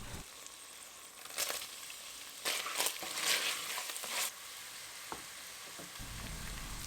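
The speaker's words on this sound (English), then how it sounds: "so I added some onion, green peppers, sauteed and added some tomato and pepper paste" Onion and green peppers sauté in a pan, with a continuous close sizzle and crackle swelling in short bursts as they are stirred. No one speaks.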